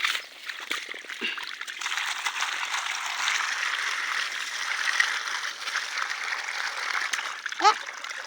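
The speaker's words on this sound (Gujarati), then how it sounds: "હવે કેરીને ધોઈ દેતા છે" Running water splashes steadily over mangoes being washed by hand in a village setting, a continuous close rush with a few brief knocks and a short squeak near the end.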